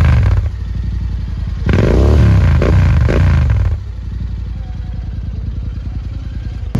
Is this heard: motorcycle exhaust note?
yes